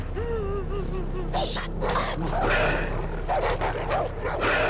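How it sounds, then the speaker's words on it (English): A dog in the Far Cry 3 video game barks and yips in short bursts against a steady low ambient rumble, the calls fairly close and rising above the background noise. "What is that dog going off about?"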